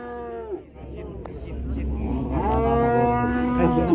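Cattle at the Kyzylorda livestock market give several long, loud, near moos, one early and a sustained one later, over steady market hubbub with people talking in the background.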